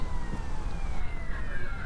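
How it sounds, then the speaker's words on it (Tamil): A car horn in GTA Vice City that sounds like a police siren, a steady wailing tone that slowly slides in pitch over engine rumble, close and continuous. "அந்த ஹாரனை இது பண்ணால் சைரன் மாதிரி அடிக்குது."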